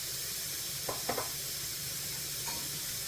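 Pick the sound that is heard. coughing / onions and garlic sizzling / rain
onions and garlic sizzling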